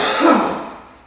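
A single throaty cough with a short rasp, close and moderately loud, trailing off into quiet breath noise, with no talk over it.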